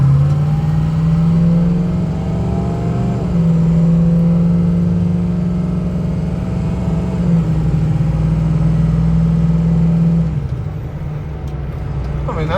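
A 6.0 Powerstroke diesel truck builds speed with a loud, steady engine drone and slowly rising turbo whine, shifting pitch twice before easing off near the end.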